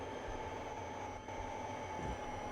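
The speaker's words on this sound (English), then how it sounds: "There's another Amtrak train." Amtrak passenger train rolling past in the Trainz Simulator 3 game, a steady rumbling roar of wheels and rails with faint squeal, continuous and fairly close throughout.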